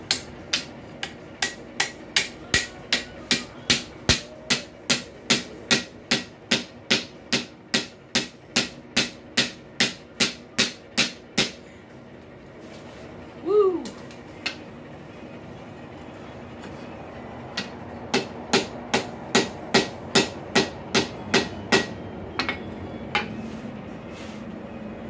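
A hammer strikes a heated rail spike to curve a hinge barrel, ringing metallic blows in a steady fast rhythm, then a pause with a brief squeak before another run of evenly spaced strikes.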